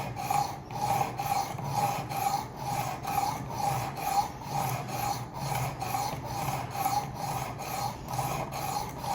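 A knife edge is worked on a Work Sharp Precision Adjust sharpener to grind past a factory micro bevel, making a close, steady rasping scrape in a regular back-and-forth rhythm of about two strokes per second, with no talking.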